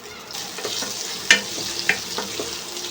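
Ginger paste and tomato fry in a pan, a moderate hiss with scraping stirs and two sharp clinks of a spatula against the metal, close and unaccompanied by voices.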